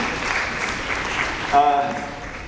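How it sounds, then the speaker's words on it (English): An audience at a school performance of Beauty and the Beast claps in a loud, continuous wash of applause, with a voice speaking over it and a brief whistle-like tone midway. "she deserves a huge round of applause"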